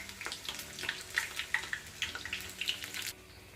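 Betel leaf bajji fritters frying in hot oil, a soft continuous sizzle with scattered crackles and pops over a few seconds, fairly close, with no voices.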